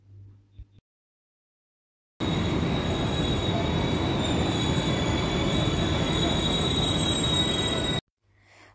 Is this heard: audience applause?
no